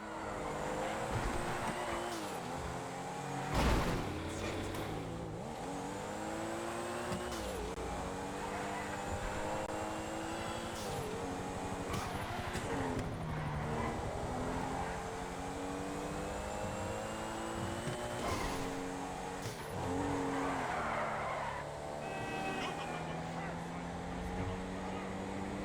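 A sports car driving in GTA Online, engine revving and shifting through gears with tire noise, continuous and fairly quiet beneath someone talking throughout.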